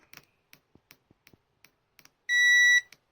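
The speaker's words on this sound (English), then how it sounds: "What if I put it in diode test? So that beeps too" Faint clicks and taps are followed by one short, shrill electronic beep lasting about half a second from a Voltcraft VC891 multimeter in diode test mode, then another click.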